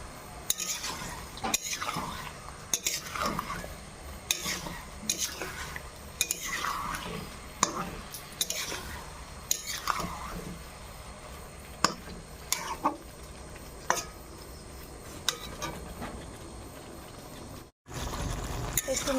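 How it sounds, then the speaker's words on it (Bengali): Vegetables for vegetarian khichuri being stirred and sautéed in a pot, with repeated metal spoon scrapes and clinks against the pot over a soft steady sizzle, close and fairly quiet, no talking. "সবজিগুলো কষে নেব ভালো মতো।"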